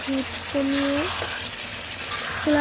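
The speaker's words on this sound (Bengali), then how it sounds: "আঁচটা একটু কম রেখে ভালোভাবে মাংসগুলো কষে নেব" Goat meat sautés in a pan over reduced heat, a soft sizzle under tonal whistle-like sounds and occasional stirring, with faint background voices nearby.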